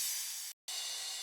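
Bright, hissing crash cymbal wash in an electronic dance track, sustained and loud, broken by a brief silent cut before the noisy shimmer resumes.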